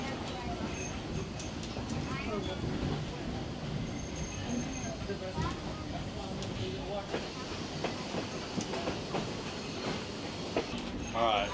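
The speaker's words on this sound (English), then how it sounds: "I'm going to ride this train back to Cass" A passenger train pulls away and runs along the rails on a forest line back to Cass, West Virginia, its steady rumble and rail clatter continuous and close throughout, with voices talking over it.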